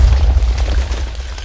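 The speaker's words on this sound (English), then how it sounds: "So yeah, I may as well have just detonated the bomb" TNT detonating in Minecraft with a More Explosives mod installed, a heavy low rumbling boom that fills the short moment loudly and steadily with no talk over it.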